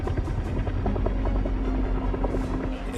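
A helicopter hovering low over a space capsule bobbing in the water during recovery after a Mercury mission, its rotor producing a steady, rumbling drone with rhythmic thumping, fairly close and continuous.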